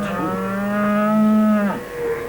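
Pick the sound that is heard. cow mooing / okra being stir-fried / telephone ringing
cow mooing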